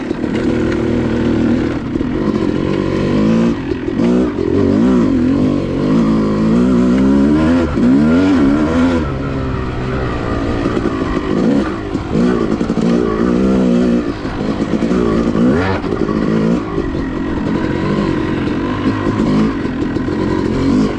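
Yamaha YZ250 two-stroke dirt bike ridden through deep sand, the engine close and loud throughout, revving up and down continuously with shifting pitch and mechanical clatter.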